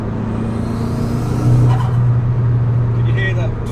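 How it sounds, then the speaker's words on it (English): A Nissan Pulsar GTiR with its SR20 engine pulls in fourth gear at about 85 km/h, giving a steady, loud drone inside the cabin that swells slightly partway through, with a voice faintly present. "have a listen, hopefully, to the classic SR20 engine noise"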